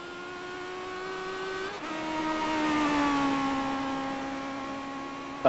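A race car engine held at high revs on a hot lap, a loud steady droning whine that drops pitch at a gear change and then climbs slowly before another shift at the end.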